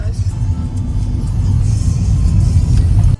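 Inside a car driving along a forest route, a loud low engine rumble and road noise build and hold steady, then cut off abruptly at the end.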